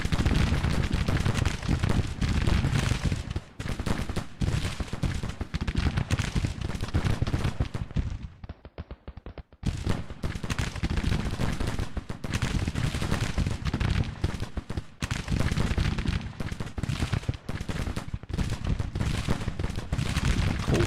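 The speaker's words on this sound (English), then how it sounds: "They also have much more rapid fire." Dense, rapid musket and revolver fire from Civil War infantry fighting in a wood line in Grand Tactician, continuous crackling volleys with a brief lull midway, then resuming loudly.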